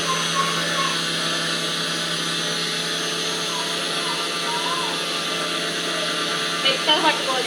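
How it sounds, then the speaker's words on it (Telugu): A mixer grinder whirs steadily as it grinds Balamrutham flour into a fine powder, a loud, even motor drone held throughout with a few brief bumps near the end. "ఇప్పుడు మిక్సీ అయితే మెత్తగా పట్టుకోవాలన్నమాట"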